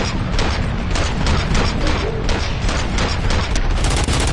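Video game gunfire crackles in dense, rapid bursts, a loud continuous volley of sharp shots and booms with no letup.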